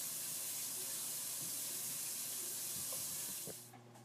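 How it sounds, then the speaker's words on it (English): A pot of salted water boils on a stove as potatoes go in, giving a steady close hiss with a few soft clinks before it quiets at the end. "So now all I'm going to do is just put the potatoes in the boiling pot."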